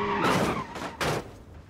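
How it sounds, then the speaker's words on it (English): A car in a video game crashes at mid speed into construction barriers. Two sharp impact bursts land close together, each with a scraping, crunching edge, and then quickly fade. "get a mid-speed crash test going"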